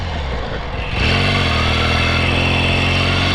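A 1963 Royal Enfield Interceptor motorcycle engine runs loud and close, rising in pitch as it revs up through a gear change and then holding a steady, even drone.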